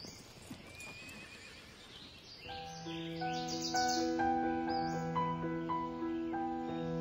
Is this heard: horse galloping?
yes